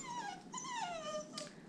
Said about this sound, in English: Sorry, that's a puppy whining.